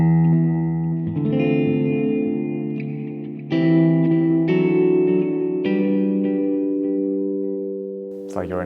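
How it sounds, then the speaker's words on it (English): Sustained chords and notes from a Donner MultiPad-100 on a clean channel with hall reverb. They swell and linger in a long, spacious wash that slowly fades, loud and alone. "Let's try the reverb to a hall."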